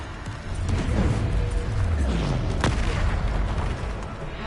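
A heavy booming blast from the Bombarda spell in Hogwarts Legacy on PS5, a deep explosive thud followed by a rumbling tail, loud and close with no talk.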